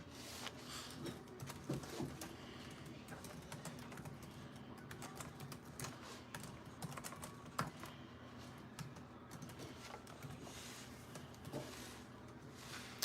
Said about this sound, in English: Okay, I'm going to type this in the comments.